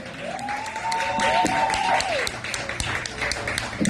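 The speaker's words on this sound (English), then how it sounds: "Can I get a warm round of applause for your host" Applause from a comedy show audience, steady and moderately loud, with a voice speaking over it and a few whoops rising above the clapping.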